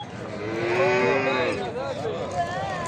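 Cattle lowing at a livestock market in Sabirabad, Azerbaijan: a couple of drawn-out moos rise over a busy background of crowd murmur and market noise.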